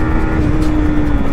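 A 2022 Yamaha MT-15 v2.0 with its stock exhaust, barely past 900 km, holds a steady, smooth, fairly loud engine drone at high revs, close and continuous.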